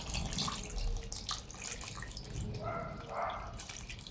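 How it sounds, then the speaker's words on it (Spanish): Tap water runs into a cooking pot holding potatoes to be boiled in a home kitchen, a steady close splashing pour with a brief louder gush near the end, no talking. "Lo he puesto en una olla. Le vamos a agregar agua"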